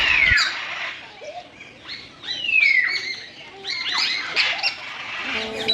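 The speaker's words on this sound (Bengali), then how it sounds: "সব শেষে দেখুন ম্যাকাও সহ বিভিন্ন প্রজাতির পাখি, আর শুনুন এবং উপভোগ করুন তাদের বিভিন্ন প্রকারের ডাক।" Many birds, including macaws, call over one another at a deer park, with shrill squawks, chirps and sweeping whistles, loud and close, in a busy, continuous chorus with no talking.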